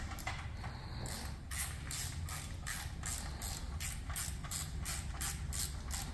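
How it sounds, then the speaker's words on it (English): A ratchet tightens the oil drain plug on a 2017 Jeep Grand Cherokee during an oil change, giving a run of quick, evenly spaced clicks that repeat steadily at close range, with no talking. "Okay, we're putting the drain plug back."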